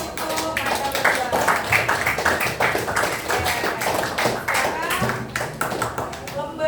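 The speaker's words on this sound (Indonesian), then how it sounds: "kita beri aplaus untuk mereka berdua" A classroom of students applauds two classmates with a continuous patter of many hands clapping, and voices mix in over the clapping.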